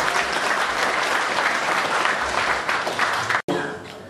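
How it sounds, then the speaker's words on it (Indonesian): An audience at a formal gathering applauds the chairman with sustained, dense clapping that fills the room, then cuts off abruptly near the end. "coba kita berikan aplaus untuk Pak Ketua"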